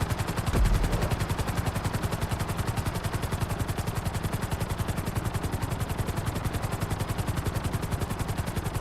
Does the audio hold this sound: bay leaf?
no